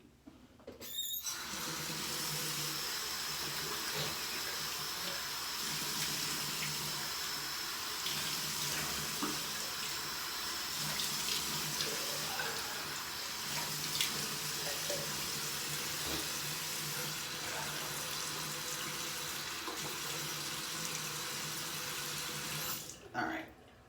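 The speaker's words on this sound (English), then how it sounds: "I'm going to go ahead and splash some water on my face" Tap water runs steadily into a sink at close range for the whole stretch, with faint splashing as water is scooped onto a face before a wet shave, alone with no talk.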